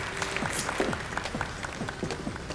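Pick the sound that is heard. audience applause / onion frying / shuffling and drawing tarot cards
audience applause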